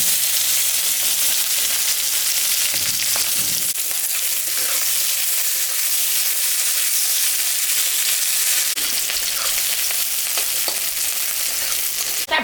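Sliced onion fries in hot oil with cumin seeds, dried red chillies and bay leaves, giving a loud, steady, close sizzle with faint stirring scrapes and no talk.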